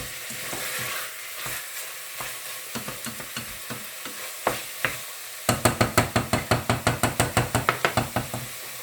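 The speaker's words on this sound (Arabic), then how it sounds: "بعد ما يتقلى نحط الطماطم نتاعنا، ونخلط البتاع" Tomatoes fry and sizzle in a pot with meat for Tunisian chorba frik while a spoon stirs, first with scattered scrapes and knocks, then a quick run of rhythmic clacks against the pot, close up and without talk.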